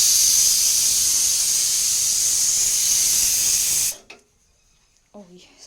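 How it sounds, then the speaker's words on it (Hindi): A pressure cooker boiling chickpeas blasts a loud, steady hissing whistle of steam for several seconds, then cuts off abruptly, leaving near silence with faint household sounds and a brief voice-like murmur at the end. "छोले रख रखे हैं उबलने, तो उसमें सीटी आली है बहुत ज़्यादा"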